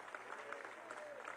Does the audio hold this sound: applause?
yes